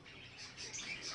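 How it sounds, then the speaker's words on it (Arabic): Pet lovebirds chirping inside a bird shop, a continuous faint chatter of high tweets and calls with no talking. "في عندك هون عشاء معشوق، طيور الحب بسموها"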